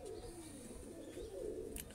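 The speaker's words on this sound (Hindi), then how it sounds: "ये अली वाला कबूतर है मलिक साहब का।" A low, murmuring coo from an Ali wala pigeon rolls on continuously and quietly, close by, with a faint click near the end.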